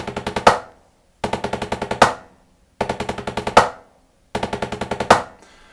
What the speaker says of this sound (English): that's the basic sound and playing for a 9-stroke roll